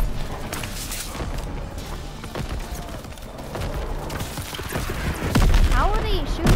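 Battle noise from the D-Day landing in the Call of Duty WW2 video game: scattered gunfire cracks and booms under shouting voices, building louder toward the end.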